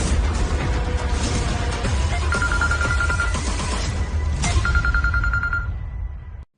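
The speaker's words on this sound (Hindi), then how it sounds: "फोन बजता ही रहेगा क्या?" A telephone rings in two bursts of rapid trilling bell tones, loud over a dense background, before cutting off abruptly.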